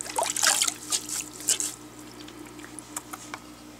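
A dirty aquarium filter sponge from an AquaClear filter being squeezed by hand, water squishing and trickling out in bursts, then dripping and pattering more softly, close up with no speech.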